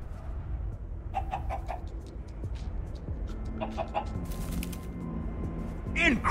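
Short, repeated chicken clucks from Minecraft Story Mode sound in scattered bursts over game audio, with a louder squawk near the close.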